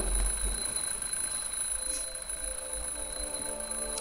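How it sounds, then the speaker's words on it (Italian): A digital alarm clock rings in the video game The Dream Machine, a thin, steady, high-pitched tone that sounds faint and constant throughout. "Una sveglia, un orologio."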